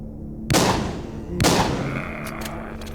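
Two sharp gunshot blasts about a second apart, each with a booming decay, followed by faint clicks; gunfire in the video game The Walking Zombie, with no talking.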